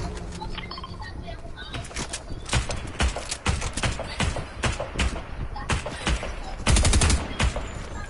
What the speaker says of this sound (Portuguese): Eu tô escutando tiro ainda